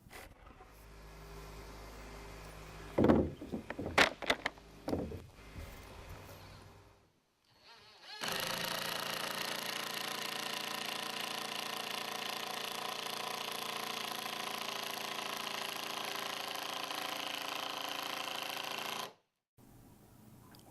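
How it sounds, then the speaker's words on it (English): A power driver sinks screws into synthetic shed decking: a few short, sharp whirring bursts come first, then a steady, sustained high motor whine runs for about ten seconds before cutting off, close and fairly quiet overall. "fasten the decking with screws designed for synthetic decking"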